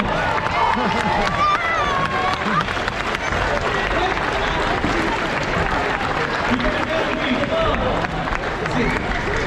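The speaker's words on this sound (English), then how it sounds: "let's clap our hands and say thank you for them" Children and parents clap together at a junior football club presentation day, sustained loud applause with cheering and crowd babble running for the whole stretch.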